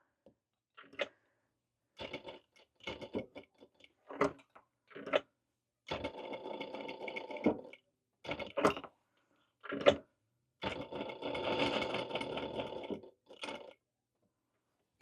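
A sewing machine with a faulty synchronizer stitches fabric for a ghost pillow in short, close, start-and-stop bursts of rapid mechanical whirring, some runs lasting a couple of seconds, separated by silent pauses.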